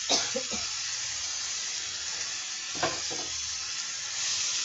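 Finely chopped Natore red potatoes fry in a pan with a steady, close sizzle and hiss, broken by a couple of soft knocks from stirring.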